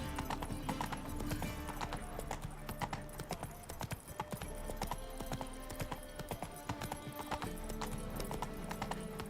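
Roach, a horse in the video game The Witcher 3, clip-clops along at a steady walk, its hoofbeats clattering on and on amid game ambience, with a whinny coming through and faint, muffled voices underneath.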